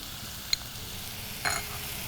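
Onions and tomato sautéing in oil in a pan, a soft steady sizzle with two brief scraping stir sounds from a spoon, close and fairly quiet.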